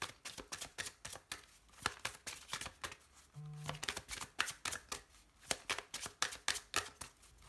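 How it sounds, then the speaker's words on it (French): Oracle cards being shuffled by hand, a quick run of crisp riffling flicks and soft slaps in steady rhythm, close and quiet, with a brief tone partway through. "Je vais d'abord faire une coupe et puis ensuite je ferai un tirage en 3"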